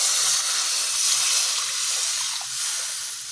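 Water poured onto hot, cooked-down spiced masala in a pan sets off a loud, continuous steamy hiss and sputter that eases slightly toward the end.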